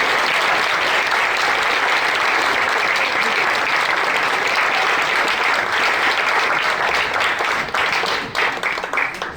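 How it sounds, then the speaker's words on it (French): Audience applause for a speaker at a French public science talk, a dense, steady wash of many hands clapping throughout, loud and continuous before thinning slightly at the end. "alors applaudissez de toute la force que vous avez tous ensemble pour François Dubois."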